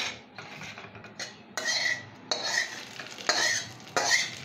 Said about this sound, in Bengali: জিরে আর শুকনো লঙ্কা ভাজা হয়ে গেছে। মা এবার বোধহয় এটা আলু সেদ্ধের মধ্যে ঢালবে।